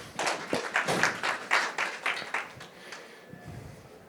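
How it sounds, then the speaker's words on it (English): A panel-discussion audience gives a short round of applause, a few seconds of distinct clapping bursts from a modest crowd that thins out and trails off into scattered claps and quiet. "can I get one round of applause from my panelists"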